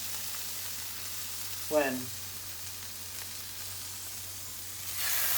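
Sausages fry in a pan with coconut oil, giving a steady, quiet sizzle throughout, with one brief spoken word near the start.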